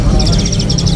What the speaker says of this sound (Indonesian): Di kios ini ada yang namanya jalak suren yang anakan.